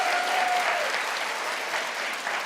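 A studio audience at a talk show claps in a steady, moderately loud burst lasting a couple of seconds, with a faint voice briefly heard at the start.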